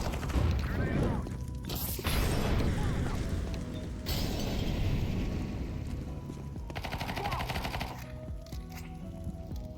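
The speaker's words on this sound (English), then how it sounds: "Grenade out." A grenade bursts in a first-person video game shooter amid rapid gunfire and heavy impacts, loud and close, with flashbangs and smoke grenades also being thrown; loud blasts and rattling shots come in sections with short pauses between them.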